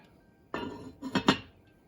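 A metal lid settles onto a pot of beef stew with a sharp clank, followed a moment later by two quick rattling clinks as it seats, all close and clear in a quiet kitchen.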